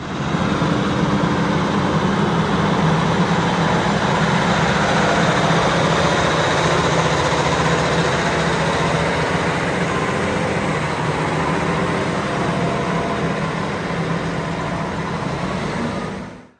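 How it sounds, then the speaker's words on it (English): A Versatile DeltaTrack 570 track tractor runs with a steady, loud, low diesel drone and broadband roar for the whole stretch, with no talking. "going to show you some shots of driving this tractor around"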